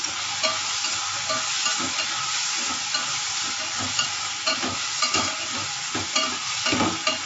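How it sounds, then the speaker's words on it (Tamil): Tomatoes and ginger garlic paste sautéing in a pan, an even sizzle that runs under repeated stirring and scraping strokes, close and alone. "இப்போ இஞ்சி பூண்டு பேஸ்ட்டு போட்டு தக்காளியோடு சேர்த்து வதக்கிக்கலாம்"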